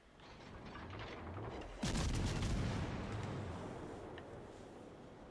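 Heavy naval gunfire from battleship guns in World of Warships: Legends: one sharp, loud boom near the two-second mark, then a rolling rumble that slowly decays over a steady low background hum, with no talking.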